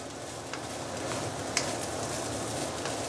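Rice and cabbage stir-fried in flavored oil, a soft continuous sizzle with scraping stirs and one sharp utensil knock midway, close and fairly steady.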